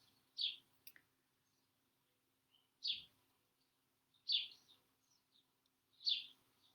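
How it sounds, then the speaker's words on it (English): Quiet garden birdsong: short bright chirping phrases repeated every couple of seconds, heard faintly from a distance with silence between them. "can you hear all the birds from the garden?"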